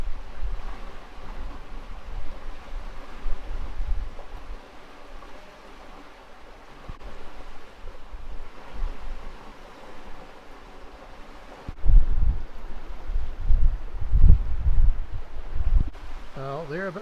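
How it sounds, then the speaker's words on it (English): Wind gusting around a sailing catamaran at anchor in a harbour, a steady broadband rush that swells louder toward the end with heavier buffeting thumps, and talk mixed in throughout. "Wind's come up a bit."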